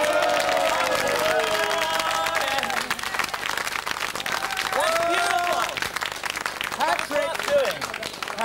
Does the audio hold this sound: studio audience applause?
yes